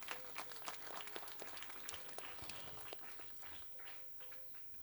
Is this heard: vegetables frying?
no